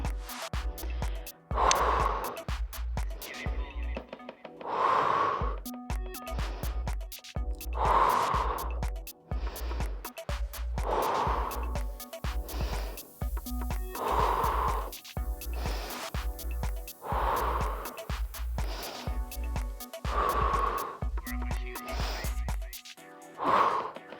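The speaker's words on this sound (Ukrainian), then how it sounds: "Видих. Видих. Видих. Видих." Forceful, rhythmic exhales during abdominal exercises, about ten sharp breaths out through the nose and mouth, evenly spaced and close, over steady low background music.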